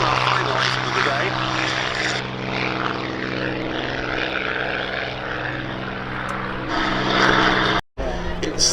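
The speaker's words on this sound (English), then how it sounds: "the Spitfire PR11 gets airborne, our final item of the day." A Supermarine Spitfire PR11 reconnaissance aircraft taking off at a summer air show at Duxford, its piston engine and propeller giving a loud, sustained droning roar with a commentator's voice over it, then a brief cut near the end.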